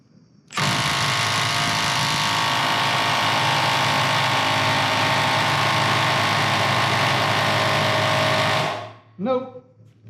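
Milwaukee cordless impact wrench running on a 5 amp battery against a stubborn nut, a loud continuous motor and hammering drone for about eight seconds before stopping, followed by a brief rattle.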